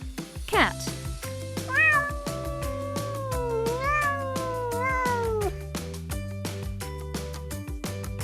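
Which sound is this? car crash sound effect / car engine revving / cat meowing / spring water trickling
cat meowing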